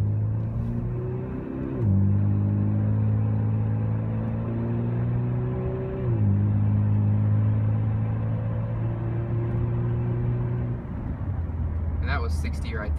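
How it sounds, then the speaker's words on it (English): A 2013 Ford Fusion Titanium pulls hard at half throttle, its engine droning steadily and climbing in pitch, with clear drops at each upshift. Brief chatter comes in at the very end. "I'll do kind of like a half throttle run."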